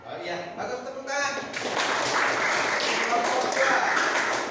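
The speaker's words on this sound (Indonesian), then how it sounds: "Oh iya, bagus, tepuk tangan." Classmates in a classroom break into applause after a correct answer from a group, with dense, lively clapping building up and holding steady, following brief talk at the start.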